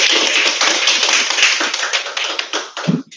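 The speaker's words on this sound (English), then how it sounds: "Let's give her a round of applause." A round of applause from the audience at an international online collaborative class closing program, loud dense clapping for about three seconds that thins into scattered claps at the end.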